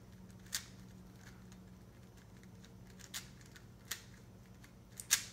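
A GAN 356 Air SM speed cube being turned, heard as a few sharp, quiet plastic clicks and snaps spaced irregularly over a low steady background hum.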